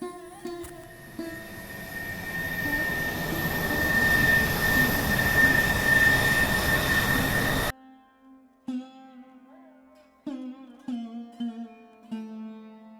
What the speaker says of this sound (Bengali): ট্রেনটি আর কিছুক্ষণ পরেই আসবে।